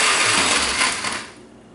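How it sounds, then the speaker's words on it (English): A blender crushing ice gives a loud, harsh grinding whir that rattles briefly and then winds down, with no voices. "crush the ice for a little bit"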